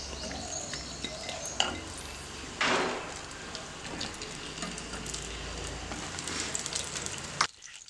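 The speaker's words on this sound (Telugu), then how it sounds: "సో నేను దీన్ని నార్మల్గా ఇలా ఆయిల్లో వేసి మగ్గ పెట్టుకుంటాను." Eggplant pieces cook in oil in a pan, giving a steady crackling fry with occasional clinks of a utensil and a louder burst of sizzling near the middle before the sound cuts off at the end.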